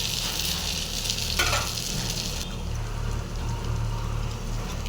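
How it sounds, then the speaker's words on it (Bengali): Pea lentil fritters frying in hot oil, a dense, loud sizzle with bubbling crackle close by, flaring briefly as they are turned, continuing steadily with no talk. "এবার উল্টে পাল্টে এটাকেও ভেজে নেবো"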